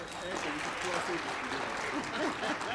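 An audience at a water imbizo claps in a steady, dense burst of applause that fills the room from start to finish, with no talk over it.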